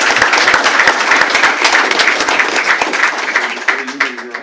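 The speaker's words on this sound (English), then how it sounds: "I'd like to welcome with a round of applause" An audience at a school board meeting applauds in a steady, dense round of clapping that fills the room for several seconds, loud and close, tapering slightly at the end.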